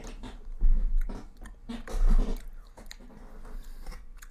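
Someone chewing bacon pizza up close, with two louder crunchy, wet bursts of mastication followed by softer, quieter chewing.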